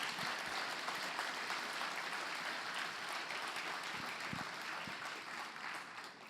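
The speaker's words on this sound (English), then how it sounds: "So a major round of applause for each of you for the difference that you've made." An audience applauds at the 2013 Hope Gala, a charity event, steady dense clapping heard from across a large hall, holding at an even level throughout with a few sharper claps standing out.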